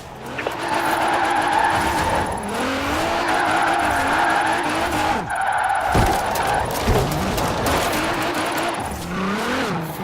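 A car drifts in the video game Forza Horizon 4, tires squealing in long wavering screeches over a loud, revving engine, with the pitch sliding as it slides through the turns.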